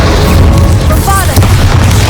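Bombarda blasting spell from the Hogwarts Legacy game going off as a deep, sustained booming rumble with a brief sparkling whoosh over it, loud and dense throughout with a voice briefly in the background.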